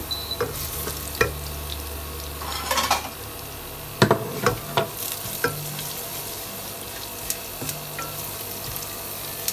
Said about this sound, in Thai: เกียวกระเทียมให้พอหอมๆครับ